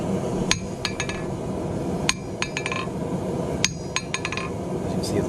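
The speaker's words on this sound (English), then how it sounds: "I'm giving it a light tap, and I'm just letting it reflex off the surface." A hammer taps lightly on a VEVOR single-horn 110 lb cast steel anvil and bounces back. Bright ringing clinks come in quick clusters of three or four, repeated several times over a steady room hiss.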